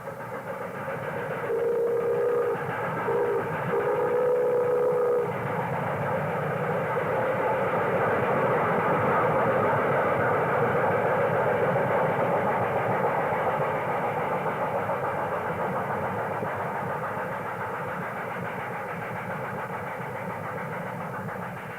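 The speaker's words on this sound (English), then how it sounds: "Another Camelback consolidation powers a freight through Joanna." A Camelback consolidation steam locomotive hauls a freight train through Joanna with a continuous heavy rumble and roar. A couple of short whistle-like tones sound early before the steady train noise carries on alone.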